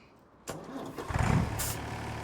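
A Mercedes vehicle's engine cranks and catches in Farming Simulator 25, an abrupt onset followed by a swelling, rumbling start that settles into a steady idle, close and moderately loud with no talk.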